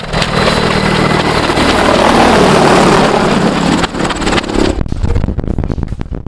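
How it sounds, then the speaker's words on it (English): Russian military helicopters, Mi-28NM, Mi-8 and Mi-35, fly over with a loud, steady rotor and engine roar that gives way to choppy blade thumping near the end. "combat works from several types of helicopters were used, like Mi-28NM accompanied by Mi-8, as well as Mi-35 transport and attack helicopter"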